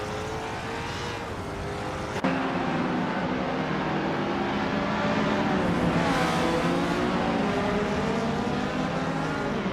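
Several race cars drone and rev continuously in a racing video game, loud overlapping engine tones rising and falling in pitch after a sharp shift near the start, with no voices.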